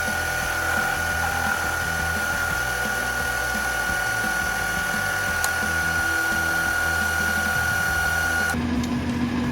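Lathe or cutting tool facing off a metal intake flange plate for a Chevy 454 intake repair, a steady machining whine with a high tonal ring and a low rumble, continuous and close, changing abruptly near the end.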